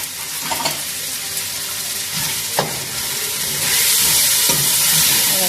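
Masala with yogurt just added being stirred in a frying pan, a loud steady sizzle with occasional scraping strokes, the hiss swelling toward the end; no talking.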